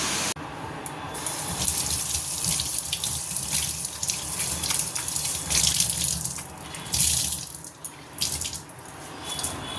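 Tap water running steadily into a sink to soak a cloth in a kitchen, a close continuous splash with slight changes in flow.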